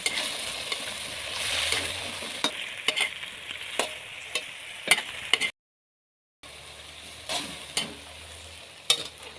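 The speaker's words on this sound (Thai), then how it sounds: "อันนี้ก็ใส่ตะเกียบเลยครับผัดให้สุกเลยนะ" Okra stir-fried in oyster sauce, sizzling steadily in a pan while chopsticks scrape and clack against it in irregular strokes, close up; a brief gap of silence falls midway.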